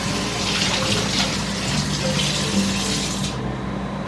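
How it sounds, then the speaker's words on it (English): A running tap pours steadily while oily hands are washed under it, a continuous close hiss of water that cuts off abruptly near the end. "Let me wash my hand, it's a little bit oily, so get my hands clean."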